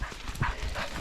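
A dog gives a couple of short, close barks or yips in a brief moment outdoors.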